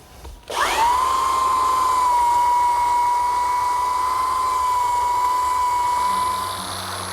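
An electric belt sander with an 80 grit belt starts up and runs on a wooden butcher block, a loud steady whining drone with a high tone that holds for several seconds before easing off, no voices.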